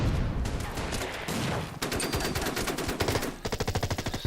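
In the WW2 strategy game Order of Battle, a grenade attack plays out as sharp, loud bursts of explosive crackling, followed by a rapid, rhythmic rattle of repeated blasts, with no talking.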